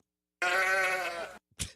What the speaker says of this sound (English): This is a sheep sound effect.